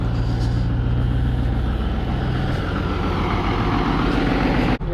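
A tractor engine rumbles steadily up close, dense low-pitched drone holding through, ready to run a feed mixer loaded with an alfalfa bale.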